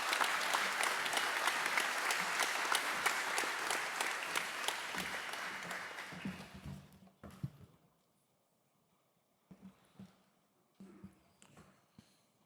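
Audience applause welcoming a speaker at the official opening ceremony of an APF Bureau meeting, with dense clapping for about seven seconds that fades, then a few footsteps and scattered thuds in a quiet room.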